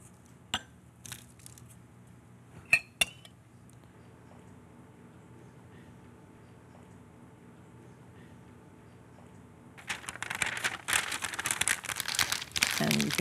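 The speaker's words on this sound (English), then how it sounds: "And you can just crimp the foil." Foil and parchment crinkling and crumpling as the edges are crimped around a chicken en papillote packet, a few sharp crackles early and then a dense, louder stretch of close crinkling near the end.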